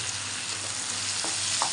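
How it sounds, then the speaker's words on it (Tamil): Asafoetida hits hot oil in a pan while frying for a pepper-cumin medicinal kuzhambu; a steady close sizzle hisses throughout, with a few light stirring scrapes near the end. "பெருங்காயம் போட்டு போட்டுக்கணும்."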